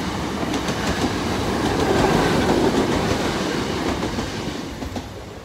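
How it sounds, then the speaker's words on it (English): A train passes on an old line near Spring View, Wigan: a loud, steady rumble of wheels on rails with faint clickety-clack, swelling midway and easing slightly toward the end, close and alone. "just let this train go past"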